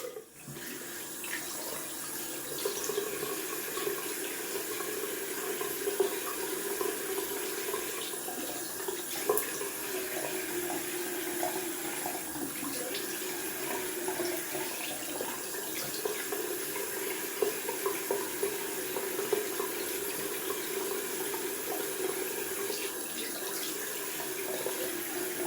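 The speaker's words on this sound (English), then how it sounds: "Gonna rinse off with cold water." Cold tap water runs steadily into a bathroom sink while someone rinses off after a wet shave, a continuous close splashing hiss with small shifts as hands move through the stream.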